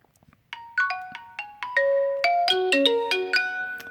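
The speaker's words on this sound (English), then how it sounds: "So let's get into our call alert tones." Lenovo P2 smartphone playing a call alert ringtone: a bright electronic melody of plucked, bell-like notes rising and layering into chords, clear and close with no talk.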